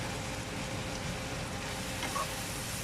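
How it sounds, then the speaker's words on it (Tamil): Turnip masi sambal sautés in a pan after its water has cooked off, a soft, even sizzle and crackle heard up close at low volume, uninterrupted and without speech. "தண்ணியெல்லாம் நல்லா வத்திட்டு ஸோ இனித்தான் வதங்கும்"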